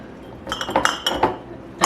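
Glass canning jars clinking together in a kitchen, several sharp, bright knocks in quick succession followed by a final louder clink, close and clear with no talking.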